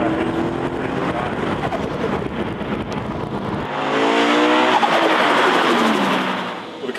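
A turbocharged Toyota 86, tuned from 103 to 163 kilowatts, drives past with a loud, continuous engine roar that surges and climbs through the revs in the second half.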